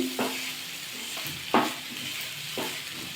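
Pitha filling being stirred continuously in a pan on a gas stove, with a few distinct scraping strokes against a soft background sizzle, close and moderately quiet.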